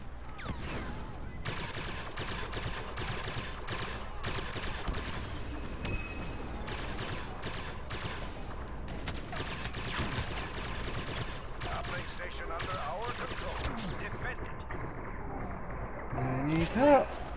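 Blaster fire in Star Wars Battlefront, rapid irregular bursts of shots scattered through a busy game soundscape, with voices talking over the action.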